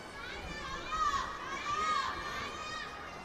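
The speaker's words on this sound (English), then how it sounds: "You hear the crowd screaming for the younger fighter a lot" Fight night crowd screaming and cheering for the younger fighter, a loud sustained roar of many voices with swelling peaks and high shrieks, filling the space throughout.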